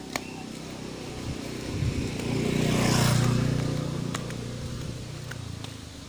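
A motorcycle engine rises and passes close by on an Indonesian roadside, swelling to a peak near the middle and then fading, with rough mid-low rumble and no talk over it.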